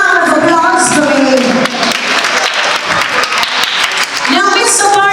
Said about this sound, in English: Give them a big round of applause for me.